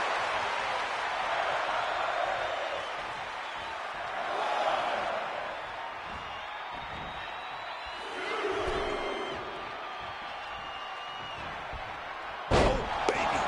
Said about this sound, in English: Knocking those teeth loose with that knee.